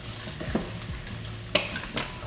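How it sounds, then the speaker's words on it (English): A whole bag of vegetables is stirred hard in a pot as they sweat, giving a steady sizzle with a few scraping stir strokes and sharp utensil clicks. "Stirring so hard, got it falling out the pot"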